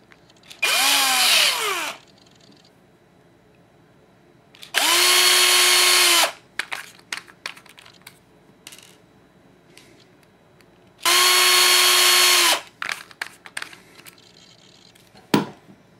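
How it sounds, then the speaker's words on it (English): A power drill spins with a rod end held centered in its chuck, threading it onto a rod in three separate whirring bursts of about a second each, loud and close, with small clicks and handling noises between them. "So get it centered in your drill chuck, and you can just thread it into the rod ends."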